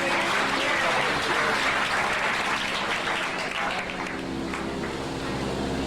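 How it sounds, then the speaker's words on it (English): Tour guests at Disney-MGM Studios in Hollywood applaud after a special effects and production presentation, a full, sustained burst of many hands clapping that holds strong, then eases slightly. "How about a big round of applause for us all?"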